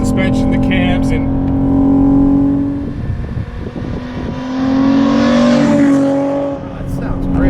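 A tuned VW Corrado VR6 with cams and reworked suspension revs up while driving, its engine tone rising and falling across two pulls, heard from inside the car with a voice talking over it.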